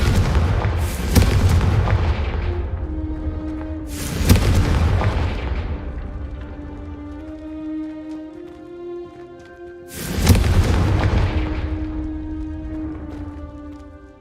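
Confringo fire spell explosions in the video game Hogwarts Legacy: three loud, booming blasts spaced several seconds apart, each decaying into a rumbling tail over sustained background game music.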